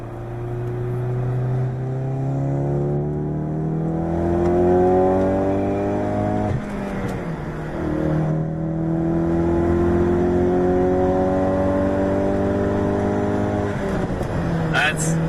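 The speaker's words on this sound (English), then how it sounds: "You hear those turbos." A turbocharged car engine in an Acura TL SH-AWD or Ford Mustang EcoBoost with six-speed manual pulls hard and accelerates with a rising turbo whine, shifting gears partway through, while people talk over it inside the cabin.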